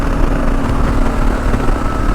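KLR motorcycle engine running flat out at top speed across a dry lake bed, a steady loud drone mixed with rushing wind, unbroken throughout.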